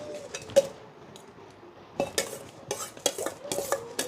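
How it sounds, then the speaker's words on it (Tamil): A spoon mixes tamarind rice in a metal vessel in a home kitchen. Irregular scraping and clinking strokes sound close by: a few at first, then a dense run of repeated stirs with no talking. "இப்போ புளி சாதம் போட்டுட்ருக்கேன்"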